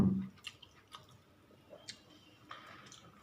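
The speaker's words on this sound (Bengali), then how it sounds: "টমেটোটা মিশিয়ে খাচ্ছি" Eating a rohu fish head muri ghonto mixed with tomato, with soft close-up chewing and mouth clicks in a few scattered bursts against a quiet room.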